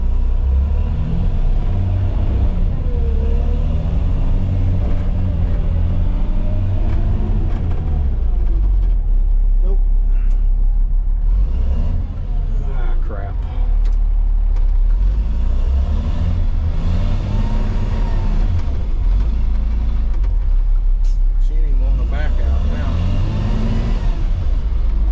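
A six-wheel-drive truck stuck in deep ruts, its engine rumbling loudly and revving in surges as the wheels spin, with a voice talking over it.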